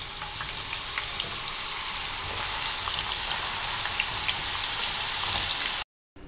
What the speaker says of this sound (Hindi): ऑयल को गर्म करें और आलू बीच में डाल दें